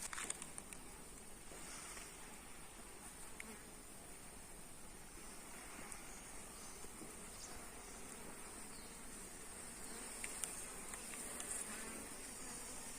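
Honey bees hum around hive combs during beekeeping work, a continuous faint buzzing swarm close by, steady and even with small rustles, no voices.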